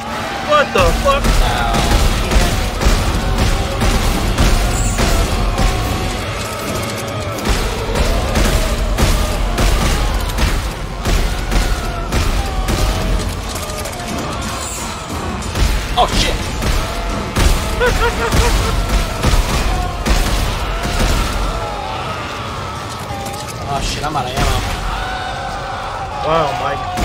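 Rapid gunfire in the sci-fi horror shooter Dead Space 3 during co-op play, dense bursts of shots and impacts crackling steadily over game noise, with players talking throughout.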